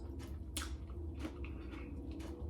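Quiet, close chewing of a shrimp dish in lobster sauce with crunchy bell peppers, onion, black beans and ground pork over rice: a few soft, wet bites and crunches spread across a couple of seconds.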